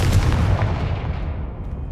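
A Confringo spell blast in the video game Hogwarts Legacy erupts as one loud, booming explosion right at the start, followed by a deep rumble that slowly fades out.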